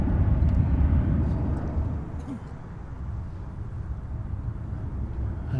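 Jet airliner Shamrock 952 departing an airport, heard as a broad, distant engine roar that is loudest at first, eases off and then holds steady.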